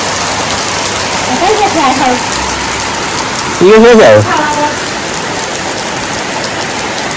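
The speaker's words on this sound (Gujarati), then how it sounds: "મિત્રો વરસાદ આવી ગયો આપણો તો અડધી રાતે વરસાદ આવી ગયો" Steady rain falls at night, a constant loud hiss of drops on surfaces, while a few brief voices speak over it.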